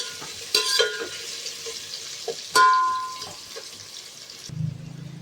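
Onions sauté in a pan for chicken biryani with a quiet background sizzle, broken by a few sharp clinks and scrapes of a spoon stirring against the metal.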